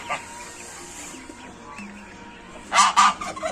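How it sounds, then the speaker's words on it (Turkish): Geese honk in a short burst of loud, close calls near the end, after a stretch of quieter farmyard noise and faint bird sounds, on a farm in Kayseri, Turkey. "kaz ve civcivlerimiz."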